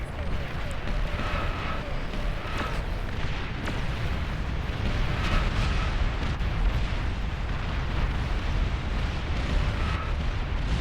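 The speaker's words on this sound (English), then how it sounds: "And now, once again, this Vulcan firing." Vulcan artillery in the real-time strategy game Beyond All Reason fires in a dense, continuous barrage of booming blasts. The roar stays loud and steady throughout, and a commentator talks over it.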